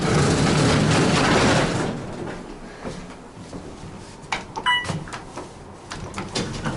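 An Otis 211 hydraulic elevator at the Pointe Hilton closes its door: a sliding rumble dies down after the first two seconds, and then comes a quieter stretch with a few short clunks and a chime-like tone.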